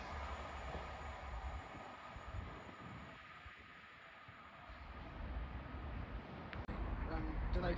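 Avanti West Coast electric passenger unit running from London Euston to Chester passing through Nuneaton station, a steady broadband rumble and rail roar at moderate distance, with a brief clank near the end.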